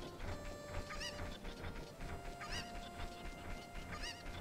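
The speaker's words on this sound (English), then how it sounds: "all the cuckoos have gotten loose again" Cuccos in the Zelda game Ocarina of Time give repeated squawking clucks in short bursts over a steady backdrop of game music and ambience, with no one talking.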